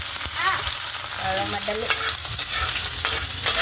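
Pork afritada frying in hot oil, with a utensil scraping and stirring in the pan over a steady sizzle, close by, as a person briefly speaks over it.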